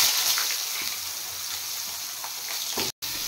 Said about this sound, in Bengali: এবার আমি ভেজে নেব বেগুন